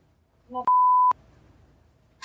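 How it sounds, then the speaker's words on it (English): A single steady electronic beep lasting about half a second, clear and close, with a soft voice just before it. "you're beeping"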